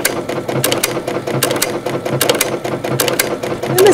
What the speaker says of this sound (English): Now I'm going to stitch to the right.